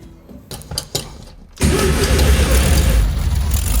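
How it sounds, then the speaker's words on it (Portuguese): A restored, once-abandoned Volkswagen Beetle's air-cooled engine cranks through a few uneven turns, then fires and settles into a loud, steady running idle. "O motor do Fusca voltou a funcionar."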